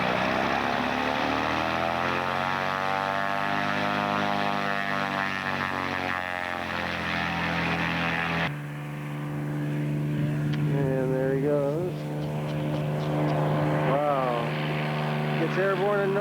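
A propeller airplane takes off in Alaska. Its loud engine drones and rises steadily in pitch, then drops into a steadier hum, with someone talking over the noise.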